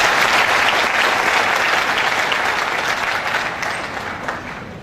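Loud, sustained audience applause fills the hall at a business success-day event, a dense wash of clapping that slowly fades toward the end.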